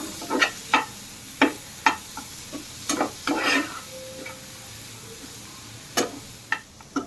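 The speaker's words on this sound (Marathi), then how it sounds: "त्यामध्ये आलं लसूण मिरचीची आपण पेस्ट टाकून घेऊ आणि चांगला हलवून घेऊ." Peas being stirred with ginger-garlic-chili paste in a pan, heard as a series of sharp scraping and clinking strokes at an irregular rhythm over a faint sizzle, close and fairly loud, with no one talking.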